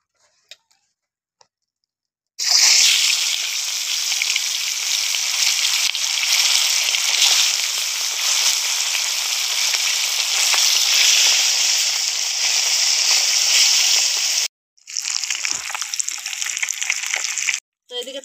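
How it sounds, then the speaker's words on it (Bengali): Rohu fish frying in mustard oil gives off a loud, steady, broadband sizzle that runs without a break for about twelve seconds, cuts out briefly, then returns more unevenly near the end. "দিয়ে দেবো সর্ষের তেল, সর্ষের তেলেই মাছ ভাজবো"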